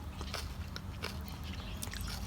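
Crunchy biting and chewing of pickled miner's lettuce, fibrous and slightly soggy, heard close up as several brief crisp crunches over a steady low background hum.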